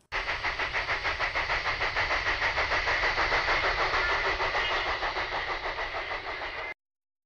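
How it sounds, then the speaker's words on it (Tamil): Rhythmic chuffing bursts of steam venting from a steam engine's exhaust repeat rapidly and evenly, a fast steady pulse that stops abruptly near the end. "இந்த வெண்ட்டோட சவுண்டை தான் நம்ம இப்படி ஸ்டீம் இன்ஜினில் கேட்போம்"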